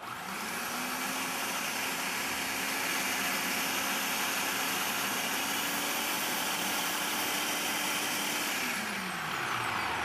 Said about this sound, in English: whenever you're working with a food processor, you always want to stop it at the beginning, halfway through, and give it a little bit of a scrape down